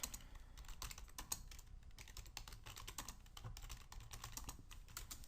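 Rapid typing on a computer keyboard, a close, continuous patter of key clicks with no voices.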